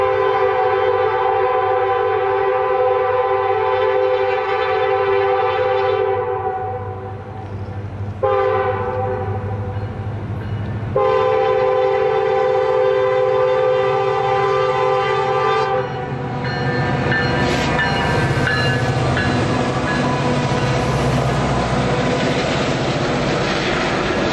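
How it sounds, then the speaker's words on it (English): An eastbound freight train pulls away, loud and close, with a sustained multi-tone horn sounding in long blasts broken by short gaps, over a steady rumble of rolling cars. "an eastbound freight got underway"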